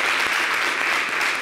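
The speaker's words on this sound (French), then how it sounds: "Est-ce qu'on peut applaudir pour les Ouattara?" Studio audience on a TV show breaks into dense, loud applause, a continuous wash of many hands clapping at full strength for the whole stretch, with no talk over it.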